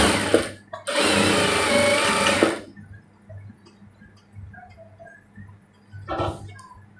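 A sewing machine runs a kameez shoulder seam with a 1/2 inch allowance. It gives a short whirring burst, a steady loud run of about one and a half seconds, and then a brief final burst after a quiet pause.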